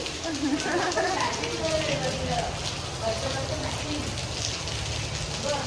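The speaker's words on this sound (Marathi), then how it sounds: "पाऊस बघू शकता तुम्ही खूप सारा पाऊस आलेला आहे" Heavy rain falls during a Dahi Handi festival gathering, a steady wash of drops beneath people talking nearby.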